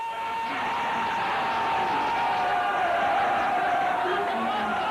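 An Iraqi crowd celebrating Saddam Hussein's death sentence, a sustained dense roar of chanting and cheering voices that holds steady throughout.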